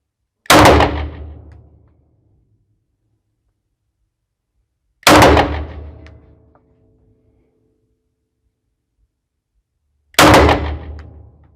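Three loud, sharp SAR 9 pistol shots fired at a shooting range, each about five seconds apart, with a ringing decay after each and quiet between.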